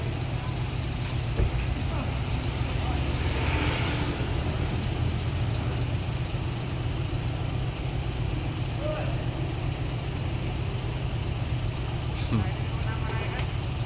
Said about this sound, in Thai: ถ่ายรถพ่วงครับ